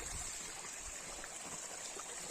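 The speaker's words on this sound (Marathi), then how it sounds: "ते छोटे झरे आहेत जे डोंगर कड्यातून वाहत आलेले आहेत" Small mountain streams trickle down rocky cliffs during a dry spell with little rain, a faint, steady hiss of flowing water heard from a distance with no voices.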